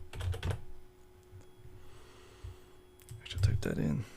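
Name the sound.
typing on a computer keyboard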